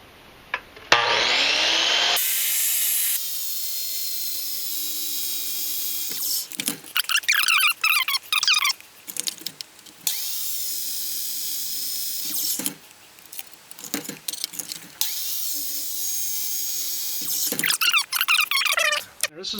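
2x42 belt sander with an 8-inch disc shaping a butt plate for a Beretta 686 shotgun, a loud continuous motor whine broken by bursts of harsh grinding as the workpiece is pressed against the belt.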